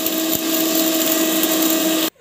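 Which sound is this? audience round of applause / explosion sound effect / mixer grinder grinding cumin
mixer grinder grinding cumin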